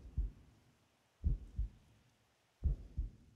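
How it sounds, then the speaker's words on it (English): A heartbeat sound effect in the horror game Paranormasight pulses in deep paired thumps, three slow lub-dub beats spaced about a second apart, low and muffled with quiet between. "The heartbeat thing is not doing me any favors either."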